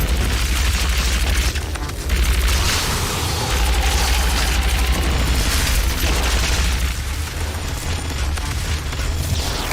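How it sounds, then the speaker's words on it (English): BFG fire in DOOM: heavy, continuous booming blasts and explosions layered over game noise, loud and close for nearly ten seconds, with no voice. "I feel like I should use the BFG more on this guy. Let's see how this gun does."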